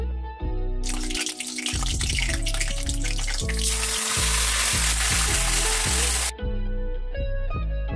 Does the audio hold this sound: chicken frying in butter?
yes